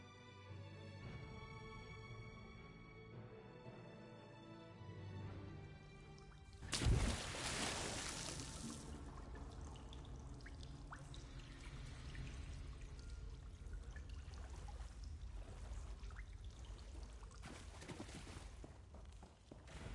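Splash into deep water in Elder Scrolls Online, the player landing in an old well: a sudden loud plunge after a quiet musical passage, followed by sustained churning, bubbling water that stays moderately loud.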